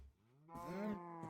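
A cow moos in Minecraft, one drawn-out harmonic low call rising in the middle and fading at the end, heard alone and fairly faint.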